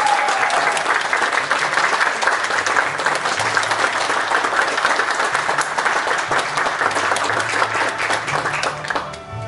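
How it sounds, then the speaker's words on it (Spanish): Loud, sustained applause at a high school graduation ceremony for the 2020 class, dense clapping from a crowd continuing for several seconds before tapering off. "un fuerte aplauso entonces para nuestros egresados"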